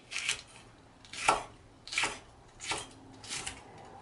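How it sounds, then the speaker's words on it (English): A knife chops a jalapeno pepper on a cutting board: five crisp, separate strikes at an even, unhurried rhythm, close and clear. "So I'm gonna chop my jalapeno pepper."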